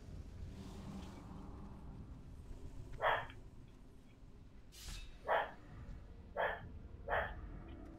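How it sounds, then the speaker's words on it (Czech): A dog barks in the background, giving four short, separate barks at a distance over a low hum. "A ty se možná zase slyšíte štěkat psa."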